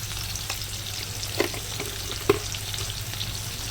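Salt and turmeric are stirred into starfruit sour masoor dal frying in a pan, giving a steady close sizzle with two soft spoon knocks against the pot.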